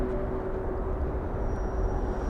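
An airplane takes off at Los Angeles International Airport (LAX), heard as a steady, unbroken broadband jet roar that holds at an even level throughout.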